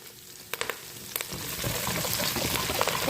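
Curry leaves drop into hot sesame oil with ginger-garlic paste for a dried mango pickle. A few sharp crackles come first, then a dense, loud sizzle builds and holds steady.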